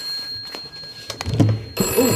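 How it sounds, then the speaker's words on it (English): A telephone rings near a podcast recording of plant talk, its electronic bell tones building to loud repeated bursts over the last second, with no voices. "Sorry, phone's ringing."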